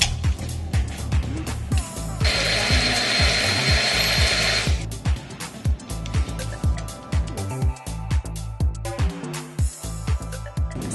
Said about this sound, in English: I added the water and berries and blended it together